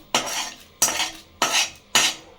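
Dal rice is mashed and mixed with a ladle, four evenly spaced wet, scraping strokes against the pot, close and fairly loud.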